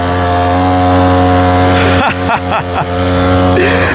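A small motorcycle powered by a brush cutter engine drones with a steady high-pitched buzz, loud and close, its note dipping and rising through several quick throttle changes.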